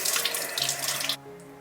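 Steady running tap water pouring over a peeled lotus root being rinsed in a kitchen sink, close and continuous, then the flow abruptly cuts off to a quiet hum.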